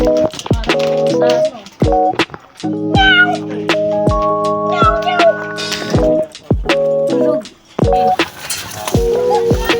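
A cat meows repeatedly and loudly up close, a run of drawn-out, wavering cries with short gaps between them, with some voices heard faintly around the calls.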